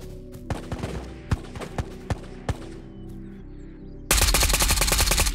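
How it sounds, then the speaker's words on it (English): Gunfire rings out in Ghosts of Tabor: several separate, spaced single shots at moderate distance, then a sudden loud, rapid automatic burst close by to finish. "someone just got shot near me"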